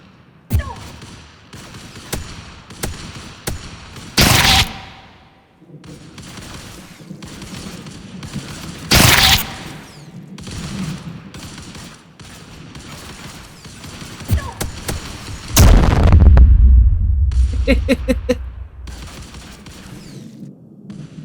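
A pump shotgun fires repeatedly in the online game Anarchy Legends Online, several loud sharp blasts spaced seconds apart with mechanical clacks and other game noises between them.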